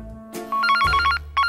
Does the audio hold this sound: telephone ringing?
yes